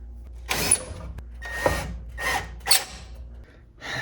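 An electrical panel cover being refitted during apartment maintenance: several separate bursts of metallic rattling and scraping from tools and the panel, close by, with short quiet gaps between and no talk.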